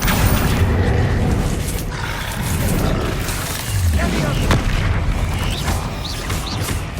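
Spell blasts from the wizarding game Hogwarts Legacy boom again and again through a dense, loud wash of combat noise, with deep thuds and crackling debris layered throughout.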